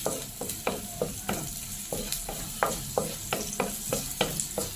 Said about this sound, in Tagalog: Gisa lang natin guys. Saute natin ng ilang minutes.